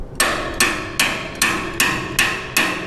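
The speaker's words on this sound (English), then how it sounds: "So you are actually allowed to hammer on this screwdriver." A screwdriver with a metal tang running through the handle is struck with a hammer in a home garage workshop, giving six sharp metallic taps at a steady, even pace, loud and close with no voices.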